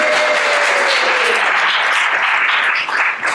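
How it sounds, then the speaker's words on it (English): Brief burst of audience applause during a talk, dense clapping that holds steady and starts to thin near the end, with a faint voice briefly at the start. "Can we give him a little clap there?"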